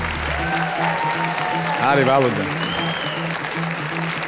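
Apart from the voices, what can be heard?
audience applause on TV singing show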